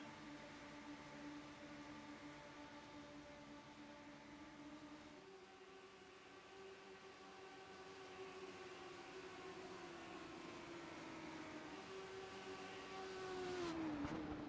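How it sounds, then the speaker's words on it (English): Race car engines in the iRacing sim at the Texas Motor Speedway road course, held at sustained high revs on the oval section, a steady harmonic drone that climbs and rises in pitch near the end, with no talk. "They are just screaming the motor, waiting to get back to that infield."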